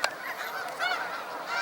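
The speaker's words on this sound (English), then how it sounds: "All the snow geese are back here." A large flock of snow geese honks continuously at a pond near sunset, a dense, overlapping chorus of nasal calls with no talking.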